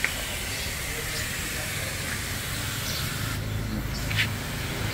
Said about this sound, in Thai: ติดตั้งเรียบร้อยครับผมใส่กระทะเสร็จแล้วก็เติมลม